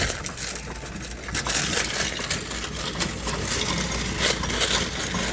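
Quarters from a vending machine being collected in a cash-out: a dense, continuous metallic clinking and rattling of many coins, close and fairly quiet, with no talk.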